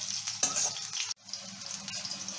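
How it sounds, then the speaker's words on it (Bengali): Two long-cut bitter gourds sizzle and fry in hot oil with a bay leaf for shukto, crackling steadily up close. The sizzle breaks off for a moment midway, then resumes. "করলাটা একটু লাল লাল করে ভাজা হবে।"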